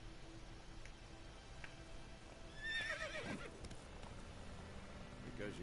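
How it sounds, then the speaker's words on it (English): A horse whinnies in The Witcher 3, a shrill, wavering neigh rising over steady game ambience, with faint hoof clip-clops and background noise around it. "Oh, now we get to mount this horse."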